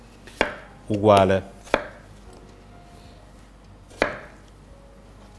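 Potatoes being halved with a knife on a board, a few sharp isolated chops with a short rustling clatter between them, close and otherwise quiet, with one brief spoken word.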